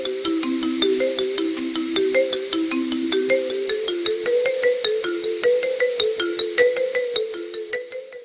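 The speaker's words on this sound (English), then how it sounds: "this song opens with a kind of a quirky xylophone" A quirky, innocent-sounding xylophone opens a song with bright, bouncing mallet notes in a steady repeating melody, played alone and up close.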